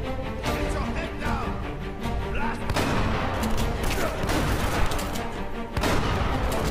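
Shotgun blasts and other gunfire from Uncharted: Drake's Fortune boom repeatedly amid a loud, dense combat mix, with faint voices underneath.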